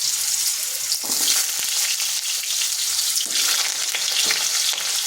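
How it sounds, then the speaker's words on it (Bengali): Diced potato cubes fry in hot oil in a wok with a loud, continuous sizzle and crackle, plus a few brief stirring scrapes. "এরপর আলুগুলো ভেজে নিচ্ছি।"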